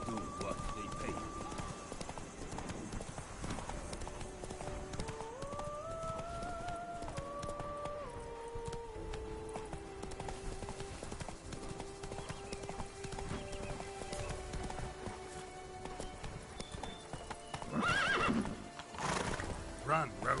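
Geralt's horse Roach gallops in The Witcher 3, with steady clip-clop hoofbeats and a whinny set against a melodic game music score, all at a low overall level.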